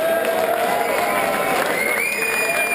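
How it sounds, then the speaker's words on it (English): Crowd at a World Challenge 2013 indoor skydiving award ceremony at Bodyflight Bedford applauds and cheers, a steady dense wash of clapping and voices with a whistle-like tone rising through it. "we're just going to give a round of applause to Skydive Arena's efforts"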